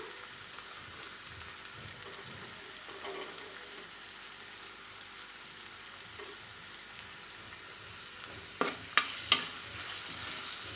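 Finely chopped big onions sautéing in hot oil for a meal maker gravy, a soft low sizzle with occasional stirring scrapes and a few sharp spatula clicks near the end, no talk.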